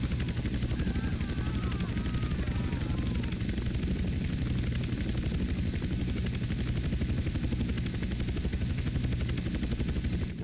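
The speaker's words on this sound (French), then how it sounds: "Ce serait bien qu'il prenne un peu de hauteur aussi cet hélico là." A helicopter in the video game GTA San Andreas gives a steady rotor thump and engine whine near Las Vegas, with a constant loud drone throughout and faint rapid gunfire-like clatter mixed in.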